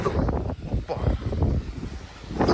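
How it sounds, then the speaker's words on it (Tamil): Steady rushing wind buffets the microphone throughout, with low rumbling gusts and people talking under it, outdoors by a bus stand in Jaffna. "பலமாக காற்றடிக்குது"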